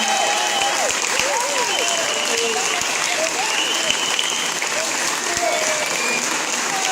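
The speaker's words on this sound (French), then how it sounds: "Vous pouvez applaudir" Steady applause from an audience at a town hall award ceremony for a boxing coach, continuous dense clapping at even loudness, with some individual claps standing out near the front.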